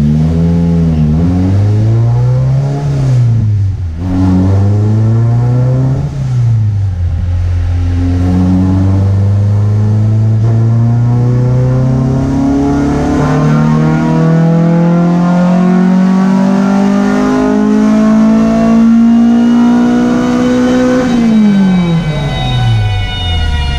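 An EK drag car's engine revs hard on a dyno, loud and close, rising and falling a few times before a long sustained climb in pitch that peaks and then drops off abruptly.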